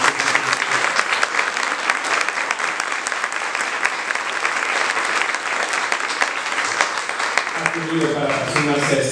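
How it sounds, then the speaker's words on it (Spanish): An audience at an academic lecture at San Ildefonso applauds to welcome a speaker, with steady, loud clapping throughout and a voice beginning to speak as it tapers off near the end. "podemos recibirlo con un aplauso"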